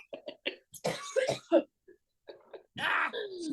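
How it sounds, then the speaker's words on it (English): Close-up coughing and repeated throat clearing from someone with seasonal allergies, a cluster of short harsh bursts and rasps with quiet gaps in between, mixed with some vocal groaning. "Like coughing all over your podcast."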